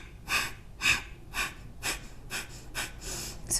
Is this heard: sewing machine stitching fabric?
no